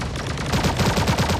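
Rapid bursts of automatic gunfire in an online shooter game, fought against bots in solo ranked play, with repeated rhythmic shots that grow louder and denser partway through, heard alone without talk.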